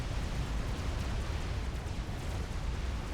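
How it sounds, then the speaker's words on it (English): An explosion in the strategy game Supreme Commander, a sustained deep rumbling blast with a dense roar that rolls on steadily without a break. "An explosion on the eastern side."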